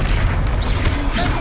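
A fiery Confringo spell explosion booms in the Hogwarts Legacy video game, a loud continuous rumbling blast with crackling bursts layered over game sound, close and dense throughout.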